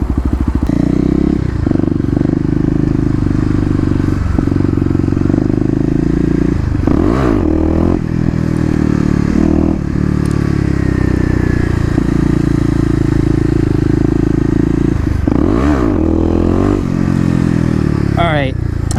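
A Kawasaki KLX250 dirt bike ridden off-road, its engine droning loud and close and revving up sharply twice, with rattling and scraping along the way.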